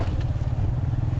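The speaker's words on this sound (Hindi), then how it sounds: "आगे बाइक जा रही है" A motorbike rides ahead along a village road among large rocks, its engine a steady low rumble under wind noise, fairly close and continuous.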